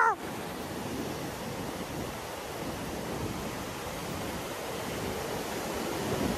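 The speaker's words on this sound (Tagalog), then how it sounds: "Malakas hangin!" Strong wind blows by the Amburayan River in Kapangan, Benguet, a loud, continuous rushing roar that buffets the microphone and holds steady throughout.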